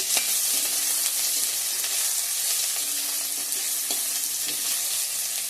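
Tempering spices, dried red chilli, bay leaf, onion and five-spice mix with ginger, sizzling steadily in hot oil, a continuous loud crackle with a few stirring knocks.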